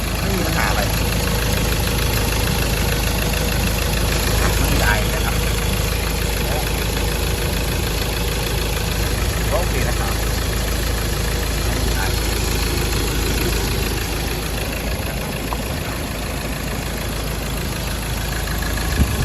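A Mazda BT-50 2.2 Pro pickup with about 304,000 km on it idles steadily, its diesel engine running smoothly at a constant even drone. Someone talks over it in places.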